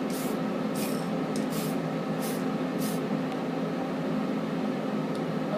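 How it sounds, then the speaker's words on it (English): Spray paint can laying a light coat of surface primer over a plastic model kit, a steady continuous hiss with a few brief, sharper bursts as the nozzle is pressed, close and alone with no talking. "That is your basic spray paint applying the surface primer, priming your model."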